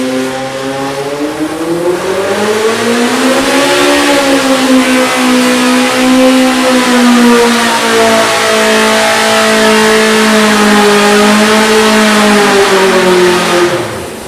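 An engine on a dyno at the EMPI Engine Battle 2024 revs hard and steadily for a long run, its loud, close drone climbing and holding high RPM before easing off at the end, alone with no talk.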